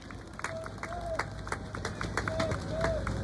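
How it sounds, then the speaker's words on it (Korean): A crowd at an outdoor political campaign rally applauds steadily throughout, with scattered claps and faint background voices, at moderate distance. "감사의 박수 부탁드리겠습니다"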